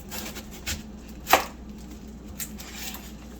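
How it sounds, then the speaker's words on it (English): A knife cuts through an onion on a board in a single sharp, close stroke, with a couple of softer knocks before and after against a quiet background. "All right, then we'll just cut the onion in half, turn it."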